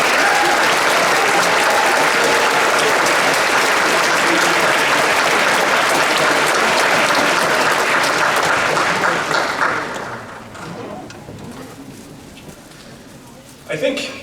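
Sustained audience applause fills a graduation ceremony for chemical engineering graduates, loud and dense for about ten seconds before thinning into scattered claps and then a brief final swell.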